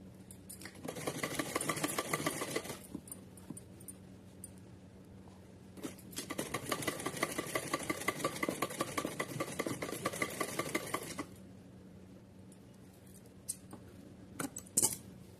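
A domestic sewing machine stitches gota lace onto a small festive dress, running in two long steady whirring bursts with a quiet pause between and a few faint clicks after.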